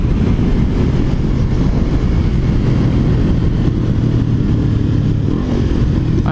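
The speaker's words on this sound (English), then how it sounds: "I always kind of slow down and keep the RPM low when I go by cops, because I have a full exhaust" Motorcycle with a full aftermarket exhaust cruising at low RPM past police, a loud, steady, low engine drone mixed with heavy wind buffeting on the microphone throughout.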